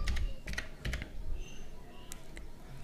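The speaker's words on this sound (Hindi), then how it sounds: "यहाँ पर आपको टाइप करके सर्च करना टूल्स फॉर व्हाट्सएप" Fingers type a search query on a phone keyboard in the Play Store, a handful of quick, light taps in uneven bursts, soft and close over low background noise.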